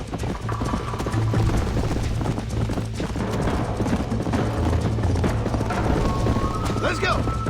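Horse hooves clip-clop steadily in Red Dead Redemption, close and loud over continuous game ambience, with a brief whinny-like tone near the end.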